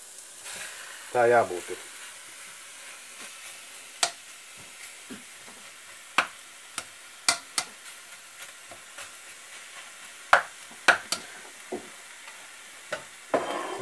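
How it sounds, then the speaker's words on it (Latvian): Meat fries in a pot for beet soup (borscht). It gives sparse, sharp crackles and pops over a quiet background, with a brief spoken phrase near the start. "Liekam iekšā gaļu apcept. Viņai uzreiz, ka iekrīt, viņai vajadzētu pielipt."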